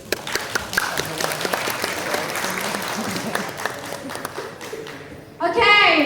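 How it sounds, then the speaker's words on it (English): Audience clapping after a university presentation at an Indonesian academic conference, a dense room-filling round of applause throughout, with a voice speaking over it near the end. "please give applause for Malang University of Science and Technology."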